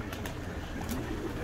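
Pigeons coo softly in a loft of a flock, low murmuring calls running on under a steady background hum with a couple of faint higher chirps.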